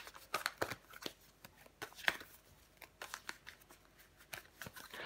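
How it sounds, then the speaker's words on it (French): Tarot cards are shuffled and turned over, with a quick run of soft, close riffling flicks and snaps spread irregularly throughout, fairly quiet and with no talking. "Mais on va recouvrir des cartes."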